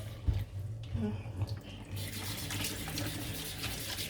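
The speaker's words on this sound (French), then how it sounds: "En mettant encore de l'eau, je vais rajouter encore de l'eau." Water trickles and splashes steadily as it is poured onto durum wheat semolina during mixing, a broad continuous wash that swells in the second half, with a voice talking briefly near the start.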